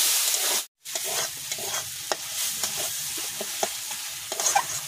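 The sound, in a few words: stirring and frying spice paste (masala) in a pan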